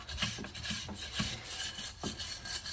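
A brake caliper on a 1978 Plymouth Roadrunner is rubbed clean of dirt, producing close, quiet, repeated rasping scrubs in an irregular back-and-forth rhythm with no talking.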